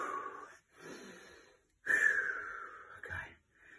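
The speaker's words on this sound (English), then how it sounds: "Let's get some deep breaths in" Deep breaths drawn in and exhaled out during a break in a home HIIT workout circuit, three or four loud, rough breaths with short pauses between, heard close with no talking.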